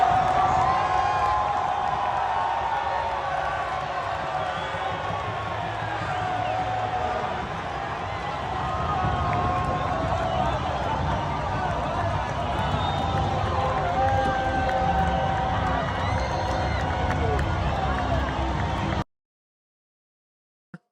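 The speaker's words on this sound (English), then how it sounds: "It was after one of the goals, and you can just hear the crowd." A large stadium crowd roars and cheers continuously after a goal, a dense wall of voices and whoops that holds steady for most of the clip before cutting off.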